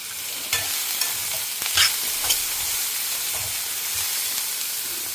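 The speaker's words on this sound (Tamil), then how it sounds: "கொஞ்சம் வதங்கட்டும், அப்புறமா உப்பு போடலாம்." Bitter gourd gojju sautéing in a pan, Madhwa style: a steady frying sizzle with repeated soft scrapes and knocks of stirring, close and moderately loud, no voices.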